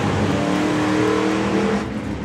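A drag racing car launches hard off the line at an FIA/FIM drag meet, a loud, steady engine roar with strong rising harmonics that holds nearby throughout, easing slightly at the end.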